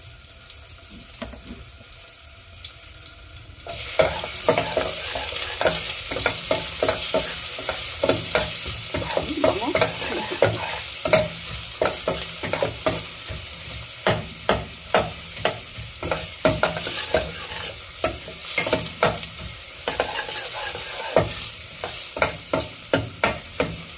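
Onions sauté in a pan for ginataang tilapia with kamias, starting with a soft sizzle before a loud burst of frying, then continuous crackling and sizzling with repeated scraping stirs close by.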